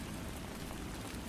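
Steady rain falls in misty sheets, a soft, even, continuous patter with no breaks, fairly quiet and with no voices.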